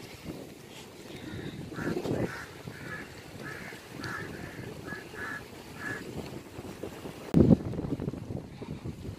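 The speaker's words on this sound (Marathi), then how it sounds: "स्वच्छ समुद्र, मस्त गार हवा" Sea and wind at the Gateway of India in Mumbai: a steady, blustery wash of wind noise and water with distant honking calls, then a brief louder gust near the end.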